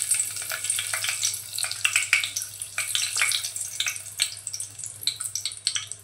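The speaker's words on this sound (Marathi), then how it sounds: "तेल पहा गरम झालंय, त्यामध्ये आपण तेजपत्त्याची पानं घालतोय।" Bay leaves sizzle in hot oil in a pan, a bright steady frying crackle with scattered pops and spits throughout, close and fairly loud, no talking.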